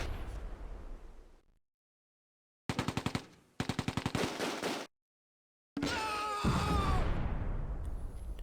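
Tank guns and machine-gun fire in the World War II strategy game Close Combat, set at the western edge of Schijndel: rapid rattling bursts separated by silent gaps, then a long, loud roar of fire, with no voices.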